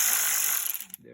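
Ratchet clicking rapidly and steadily while loosening hex bolts on a BMW Z4, close and fairly loud, stopping abruptly near the end.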